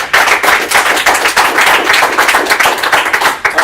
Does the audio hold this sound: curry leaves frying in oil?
no